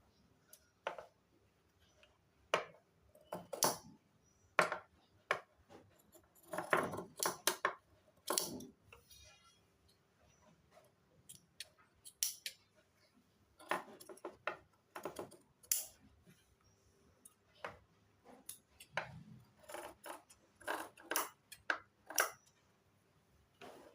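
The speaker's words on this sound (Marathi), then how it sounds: "आता हा जादाचा भाग मी कापून टाकणार आहे" Scissors snip away excess fabric beside a freshly stitched neckline while sewing a simple kurti, giving close, irregular bursts of sharp cutting clicks separated by short pauses, with no talking.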